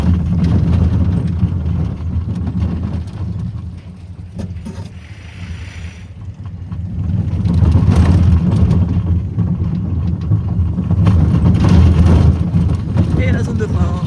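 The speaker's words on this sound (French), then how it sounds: "c'est un coaster bien sympa, franchement, bien cool" Ride on the Miraculous Rocket roller coaster at the Jardin d'Acclimatation amusement park in Paris, with steady loud wind rush and rumbling track noise, then slowing near the brake zone, with people talking and cheering over it.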